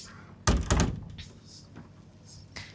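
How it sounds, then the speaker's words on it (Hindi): A room door is pulled shut in a hotel room with a heater running, giving a loud thump followed by a second knock, then a quieter room tone with faint later sounds. "थोड़ी सी दरवाज़ा बंद कर लेते हैं क्योंकि रूम हीटर चालू है"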